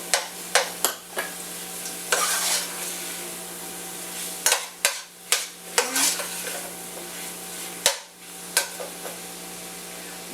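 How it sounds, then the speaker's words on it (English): A sautéed mixture seasoned with paprika for Spanish bean soup is stirred in a pot, with repeated scraping strokes in irregular bursts over a low steady sizzle, close and moderately loud, no talking. "Go ahead and give all that a stir."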